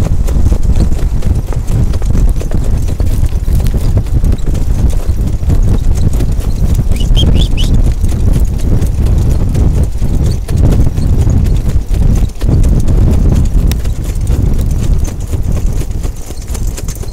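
A powerful harness racing colt trots out of a turn, hooves clip-clopping in a quick, steady rhythm, loud and close over constant wind and track noise, with no voices.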